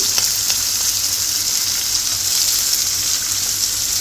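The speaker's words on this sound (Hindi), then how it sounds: "तो मिर्ची थोड़ी सी फ्राई होते ही कैरी भी मिला दी।" Green chilies and raw mango fry in a hot pan, producing a loud, steady close-up sizzle with a bright crackling hiss that holds evenly throughout, with no voices.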